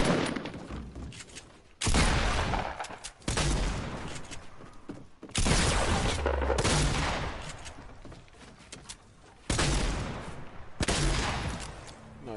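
Gunfire in a first-person shooter video game comes in repeated loud bursts of shots separated by brief lulls, about six volleys, fairly close and without speech.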